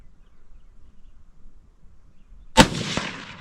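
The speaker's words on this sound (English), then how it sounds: "Oh, it does shoot after 80 years. Louder too, ain't it?" A single sharp gunshot from an 80-year-old gun cracks out loud and close after a quiet stretch of faint outdoor rustling, then rolls away in a brief echoing tail through the woods.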